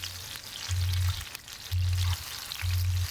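Eggplant slices frying in oil in a pot, a steady bright sizzle with three louder bursts of hissing as pieces hit or shift in the hot oil, close and alone with no talk.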